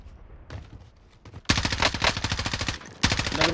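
Rapid automatic gunfire from a video game shootout, loud bursts of repeated shots starting halfway through after quieter scattered clicks, then a second burst near the end.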